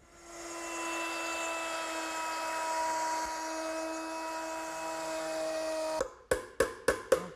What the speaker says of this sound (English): I'm going to route it out using a 1/4-inch veining bit set up in my router